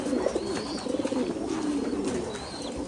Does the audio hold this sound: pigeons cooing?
yes